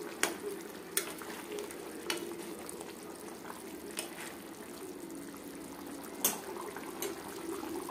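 A spoon stirs egg curry with kasuri methi and coriander leaves in a pan, a soft continuous simmering sizzle under faint scrapes and occasional light clinks against the metal.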